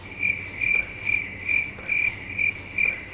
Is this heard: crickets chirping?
yes